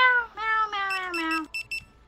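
A person's voice imitates a cat in a virtual fast-food restaurant in VR Chat, giving a few meows in a row, the longest stretching into a falling wail, followed by short clipped bleeps.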